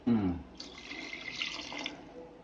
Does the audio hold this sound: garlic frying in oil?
no